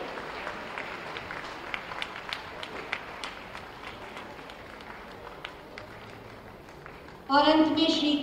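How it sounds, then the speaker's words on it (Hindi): An audience at a state-day inaugural award ceremony claps in scattered, moderate applause with a voice speaking over it, then a louder burst of sound arrives near the end. "तालियों से हौसला बढ़ाइए,"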